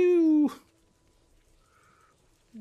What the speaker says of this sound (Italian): I cuccioli di lupo.